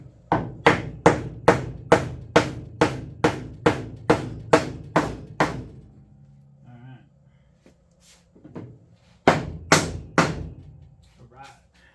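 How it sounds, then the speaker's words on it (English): Hammer blows ring out on wood, about a dozen sharp, evenly spaced strikes in a steady rhythm, then a pause with faint knocks before a few more hits, close and loud, as parts are test-fitted on a 1955 Cushman Truckster pit bike. "Going to need a hammer and a piece of wood."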